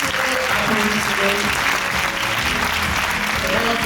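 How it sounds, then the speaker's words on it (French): A conference audience applauds a physician being introduced, loud sustained clapping throughout with a few voices murmuring underneath. "Applaudissez, il le mérite vraiment."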